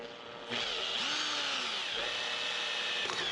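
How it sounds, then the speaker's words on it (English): A power drill starts with a jolt and runs steadily, its motor whining as it bores a pilot hole into aluminium, loud and close throughout. "So I'm just going to drill straight in"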